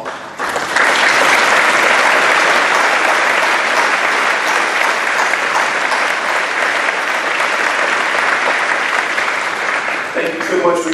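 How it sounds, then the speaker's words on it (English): Loud, sustained applause from a seated audience at a chamber of commerce luncheon, a dense wash of many hands clapping steadily for about ten seconds before tapering near the end. "let us give you a round of applause."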